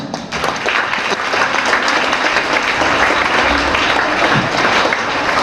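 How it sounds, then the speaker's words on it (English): Loud, sustained audience applause at a school annual day celebration for scholarship students, many hands clapping densely and evenly throughout with no voices over it. "Give a huge applause"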